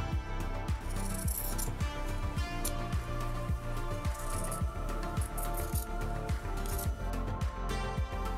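Scissors cut through denim patch fabric for mending jeans, making quiet, regular snips in a steady rhythm at close range, with no voices.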